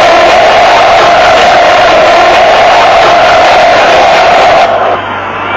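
Hajduk Split supporters in the south stand roar and cheer in a stadium during a 1987 cup quarter-final against Rijeka, a loud, dense, continuous crowd noise that drops slightly at the end.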